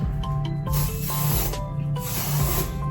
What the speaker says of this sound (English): I just, this dry shampoo that I spray.